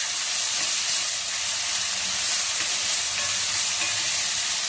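Finely chopped onions fry in a hot pan for a pea misal pav, giving a steady, loud, broadband sizzle that holds evenly throughout with no one speaking.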